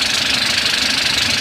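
A Hyundai D4CB diesel engine runs after a timing chain and tensioner repair, idling loud and close with a steady, even mechanical clatter.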